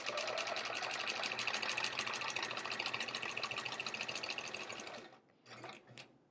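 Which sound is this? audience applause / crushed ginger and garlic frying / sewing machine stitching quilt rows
sewing machine stitching quilt rows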